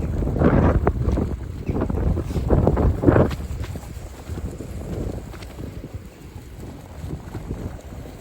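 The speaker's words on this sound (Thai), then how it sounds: "ลมแรงขึ้นแรงค่ะทุกคน" Strong wind gusts buffet the microphone beside the sea on a cold winter evening, a steady low roar that swells and eases throughout, loudest in the first few seconds, with no talking.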